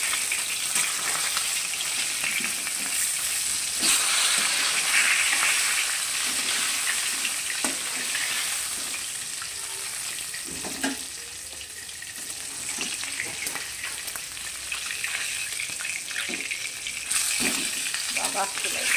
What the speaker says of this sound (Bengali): দেখো এই মাছগুলোরও আরেকটা পিঠ সুন্দর ভাজা হয়ে গেছে।